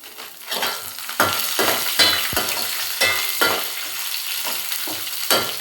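Dried red chillies fry and sizzle in a pan, with a steady crackling hiss broken by repeated scraping stirs of a spoon at a close, moderate level.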